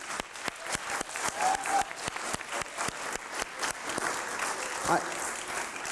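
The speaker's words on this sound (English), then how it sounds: "Just a quick round of applause for Greg, Joey, Charles, Justin, Kristen, Robert, Sarah, Katie, Joe, and Emily" A room full of people at a Gideon Day gathering applauds for the planning committee, a dense, steady clapping that holds at an even level throughout with a few sharper claps standing out.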